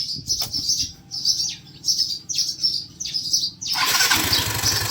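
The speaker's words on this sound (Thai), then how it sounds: "ทีนี้เราก็มาลองสตาร์ทดูนะครับ" A Yamaha Mio 125i motorcycle with a faulty fuel injector cranks several times in short repeated attempts, then catches and runs steadily near the microphone while birds chirp in the background; no one talks.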